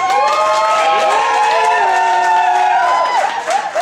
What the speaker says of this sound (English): Someone make some applause if you want to see a woman up here tonight